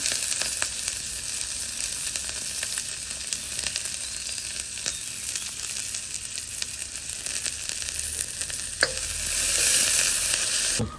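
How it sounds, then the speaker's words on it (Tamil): Onion and green chili sizzle and crackle steadily in hot oil, with occasional stirring clicks throughout, close and continuous. "வெங்காயம் பச்சை மிளகாய் போட போகிறேன்"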